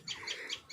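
Four short, high bird chirps in a quick run, fairly faint, over a quiet background.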